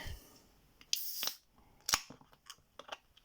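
A can of peach iced tea is opened: a couple of sharp close clicks and a brief hiss of the tab, followed by small handling taps, with no talking.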